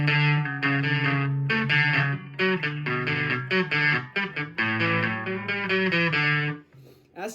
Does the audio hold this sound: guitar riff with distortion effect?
yes